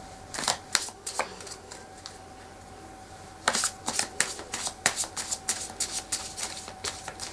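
Oracle card deck shuffled by hand overhand rather than riffled, producing bursts of crisp papery flicks and slaps, a few at first, then a denser rapid run after a pause, close up with no talking.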